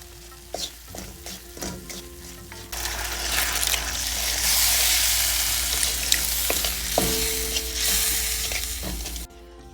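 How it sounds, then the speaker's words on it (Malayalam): Dried prawn pickle masala frying in oil with repeated spoon scrapes against the pan, then a louder, hissing sizzle swells in and holds steady beneath the rhythmic stirring until it abruptly stops. "ഇതുപോലെ എണ്ണ തെളിഞ്ഞ് വരുന്നിടം വരെ മൂപ്പിക്കണം."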